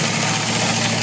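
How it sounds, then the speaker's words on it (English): Sewing machine stitching through seven layers of Sunbrella and Top Gun canvas, a loud, steady mechanical hum with an even low drone throughout the short stretch. "Sewing through 7 layers of material here."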